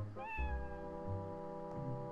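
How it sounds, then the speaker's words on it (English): A cat meows twice in Zelda: Twilight Princess HD, a clear rising-then-falling game meow followed by a softer second call, close and alone with no talk over it. "I can't pick up the kitty!"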